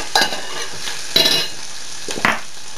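Paprika paste sizzles steadily in butter in a pan, with a few brief scraping stirs of a utensil breaking through the constant hiss.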